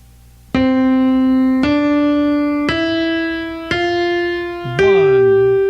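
Electronic keyboard playing the Song of Joy melody one note at a time, five clear sustained tones stepping upward at an even pace, played alone.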